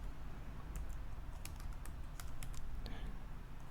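Code being typed on a computer keyboard, with steady light clicking in uneven bursts over a constant low background hiss.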